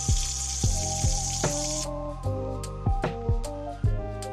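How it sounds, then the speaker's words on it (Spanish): A glass jar being washed with soap and warm water under a running tap: a steady stream pours for a couple of seconds, then comes a series of close water splashes and sloshes at irregular intervals. "Estoy lavando el frasco con un poco de jabón y agua tibia."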